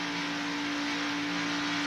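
IROC race car engines at Talladega in 1995, a steady loud droning roar with a constant pitched whine held throughout, sustained without letup.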